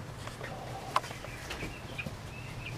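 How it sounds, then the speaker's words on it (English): Meat chickens in an indoor coop cluck and call softly over a steady low background hum, with a few faint sharper clucks scattered through. "The meat birds have moved out to their new home"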